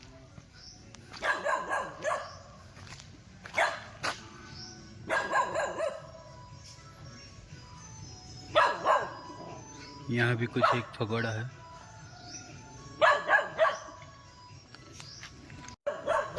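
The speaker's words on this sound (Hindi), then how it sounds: "जब से आए हैं तब से ये कुत्ता भौंक ही रहा है।" Dog barking repeatedly in Ninh Binh, Vietnam, near a pagoda, sharp bursts in irregular clusters at moderate distance, with someone speaking between and over the barks.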